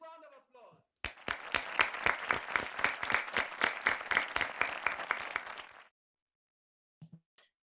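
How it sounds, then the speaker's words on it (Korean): Audience at a church press conference breaks into rhythmic, unison clapping in a steady beat for about five seconds, preceded by a short bit of amplified speech and ending abruptly, followed by near silence. "이만희 총회장님을 큰 박수로 모시도록 하겠습니다"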